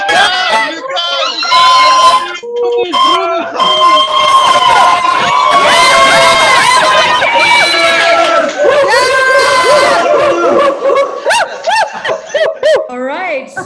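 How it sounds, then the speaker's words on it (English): Graduates of a virtual commencement ceremony in Dubai cheer and laugh together after unmuting, a loud, continuous crowd of overlapping voices, whoops and chatter that thins into scattered bursts toward the end. "MIBs, unmute and cheer to your heart's content"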